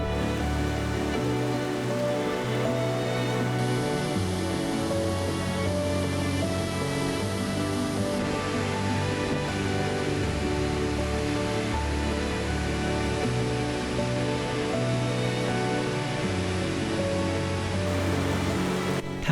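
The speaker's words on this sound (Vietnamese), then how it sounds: "Đây là thác nước cao thứ hai của Mông Cổ và cũng là một trong những điểm đến thiên nhiên nổi tiếng nhất ở thung lũng Orkhon" The Orkhon waterfall in Mongolia's Orkhon valley in autumn sends up a steady, dense roar of falling water, loud and unbroken throughout, with no voices.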